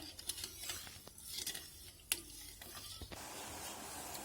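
Sugar syrup boiling in a pan and being stirred, with soft bubbling and sizzling and intermittent scraping clicks of the spoon, quiet and close.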